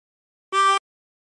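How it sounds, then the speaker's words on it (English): A single short blow note on hole three of a harmonica, clean and steady, about a quarter second long in silence. "and blow into three."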